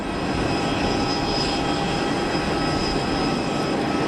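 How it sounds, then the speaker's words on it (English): A Boeing 787 Dreamliner arriving at Geneva from Doha gives a steady, loud engine roar with a thin high whine running through it, unbroken and without speech. "787 Dreamliner in from Doha, I guess"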